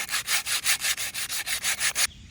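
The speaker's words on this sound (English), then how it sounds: "So I've got some sandpaper on hand, medium grit, so we can take that down to smooth." Medium grit sandpaper scraping a painted wooden mailbox post in about a dozen steady back-and-forth strokes, close and loud, ending abruptly.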